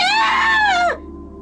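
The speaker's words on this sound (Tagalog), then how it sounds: "isang sigaw ang kanyang narinig" A single high, strained scream in a dramatized story rises and wavers for nearly a second, then cuts off abruptly, leaving only a quiet low hum.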